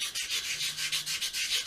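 Sandpaper or an abrasive pad scratches a wooden turkey call box in quick, steady back-and-forth strokes, a close, dry, hissing rasp with no talk.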